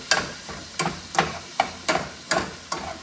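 Onions softening in a pan for million dollar spaghetti, a soft sizzle broken by about seven evenly spaced clacks of a spoon stirring against the pan, close and fairly quiet.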